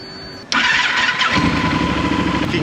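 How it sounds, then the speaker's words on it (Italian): A motorcycle engine cranks and catches abruptly, then settles into a steady loud idle, close up with no talking. "finché si gira la chiave la moto parte senza il minimo problema"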